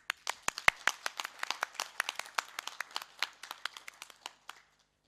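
Meeting delegates clap in a short run of distinct, fairly sparse handclaps, crisp and close, rising briefly and then stopping abruptly after about four and a half seconds, with silence after.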